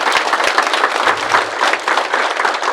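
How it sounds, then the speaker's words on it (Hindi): A large audience claps together for their parents at a doctors' event. The applause is loud and dense and continues steadily throughout. "एक बार उन दोनों के लिए ताली बजा दो, अपने माँ बाप के लिए"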